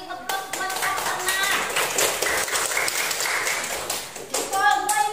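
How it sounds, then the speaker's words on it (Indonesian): A class of children claps for a young trainee teacher during a school lesson, a steady patter of many hands lasting several seconds, with brief voices before and after. "kasih tepuk buat Kak Sana"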